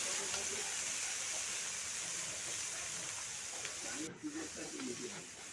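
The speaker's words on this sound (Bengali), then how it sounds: "খুব ভালো করে কিন্তু গাজরটাকে ভাজতে হবে।" Carrots frying in a pan for fried rice, a steady broadband sizzle holding throughout, with brief stirring scrapes and a short dip near the end.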